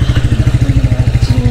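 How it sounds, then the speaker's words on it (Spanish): A newly bought motorcycle engine runs at a steady idle close by, its loud, rapid low thumping pulsing evenly with a faint mechanical clatter above. "Mira, ma, esa es la moto que me compré."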